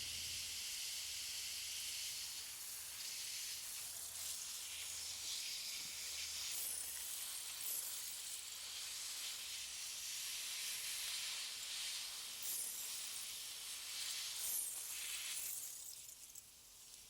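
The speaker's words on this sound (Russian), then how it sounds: "Перед подкормкой поливаю тщательно все кусты." Water running onto tomato plants in a garden bed, a soft, steady hiss of spray that continues for the whole stretch at low level, with no voices.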